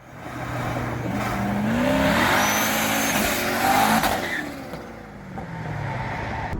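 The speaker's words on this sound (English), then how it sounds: "can you actually do kind of a smoky burnout when it's this cold?" A supercharged C5 Corvette doing a burnout in cold weather, the V8 engine revving hard with rising and falling pitch and tire squeal, loud and close.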